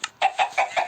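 A video game chicken clucks in four or five quick, evenly spaced bursts, close and clear, with nothing else around it.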